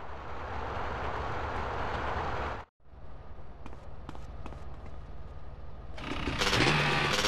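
A train in the video game GTA San Andreas rumbles past loudly and steadily, breaks off for a moment, then returns with clattering and a brighter, harsher roar near the end.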